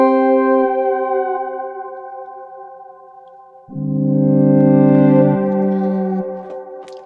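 Sustained tones on a UDO synthesizer with a ribbon controller ring out under a little reverb: one held chord slowly fades, then a louder new chord swells in and decays with a soft spacious tail.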